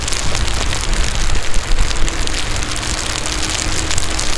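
Heavy rain pours steadily while riding an Inmotion V14 electric unicycle, a loud, dense hiss of drops with rushing wind noise throughout.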